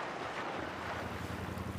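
Steady, rushing wind sweeps over choppy sea water at a San Francisco triathlon, buffeting the microphone with a continuous broad roar and no voices.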